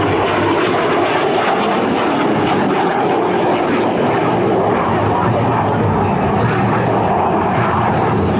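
A Blue Angels jet roars overhead in a loud, dense, sustained rumble that fills the whole stretch without a break. Faint voices may sit beneath the engine noise.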